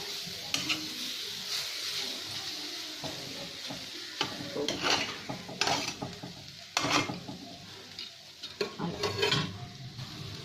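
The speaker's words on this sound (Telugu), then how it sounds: "ఇప్పుడు బాగా వేగిపోయిందండి" Cluster beans fry in a pan, a steady sizzle punctuated by irregular scraping and clattering strokes of a spoon stirring them, close and without talk.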